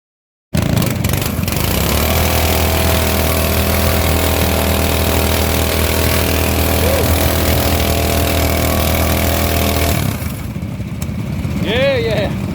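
A small pull-start mini bike engine runs steadily at a loud, close, even drone for most of the stretch, then cuts off abruptly, leaving quieter outdoor background with a faint squeak.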